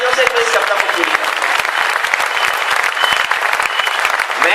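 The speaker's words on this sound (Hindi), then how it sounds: "सारा सदन बताए तालियों से इस कविता को पूरी कर।" A hall audience at a patriotic Hindi poetry recital claps to finish a poem, producing loud, dense applause that runs unbroken from start to end.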